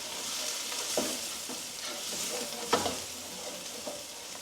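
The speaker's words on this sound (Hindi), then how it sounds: "इसको थोड़ा सा मैं रोस्ट कर लूँ।" Masala for shalgham gosht sizzling and frying in a pan as it is roasted, a steady close hiss with a few sharper scraping stirs of a spoon, and no talking.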